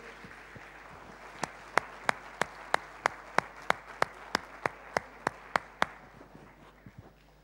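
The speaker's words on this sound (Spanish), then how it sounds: "Den un fuerte aplauso a esas personas que hoy vinieron por primera vez." A church congregation at a Spanish-language worship celebration applauds first-time visitors, with brief scattered claps building into a run of sharp, evenly spaced claps that fade toward the end.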